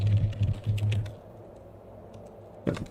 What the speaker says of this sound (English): if I press the number keys, we get an input